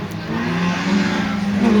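A 1600cc Honda Civic rally car at the Brean Stages Rally roars past with a steady, loud engine drone that grows slightly louder as it approaches.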